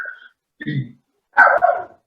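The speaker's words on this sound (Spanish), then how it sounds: "hay alguien que tiene el micrófono prendido y está su perrito acompañando la plática" A small dog barks and yips in the background over an open microphone during an online medical talk, a few short separated barks; a voice may be faintly present.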